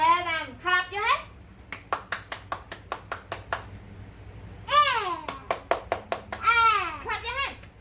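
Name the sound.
child clapping hands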